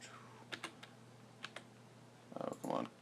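Keys tap on a computer keyboard in a few quick, sparse clicks, followed by a short flurry of denser typing near the end, close and quiet with no talk.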